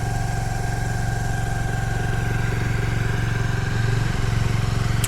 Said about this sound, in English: Because it's so cold this morning, I'm going to let it run on choke for at least a minute or two.